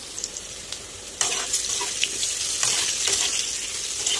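An egg dish seasoned with salt and turmeric fries in a pan, giving a loud, close, continuous sizzle broken by occasional stirring scrapes.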